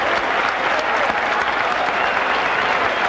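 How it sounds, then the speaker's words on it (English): A large boxing arena crowd in Buffalo applauds and cheers after a fight, dense, loud, continuous clapping and roaring that fills the whole stretch without a break. "They both deserve this resounding ovation in the auditorium."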